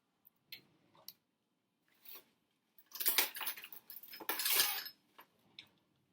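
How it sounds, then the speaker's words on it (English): A large kitchen knife cuts open potatoes for fries, with a few short clicks and taps, then two longer bursts of scraping and slicing at close range, no talking. "I'm going to use a bigger knife to sort of cut these open"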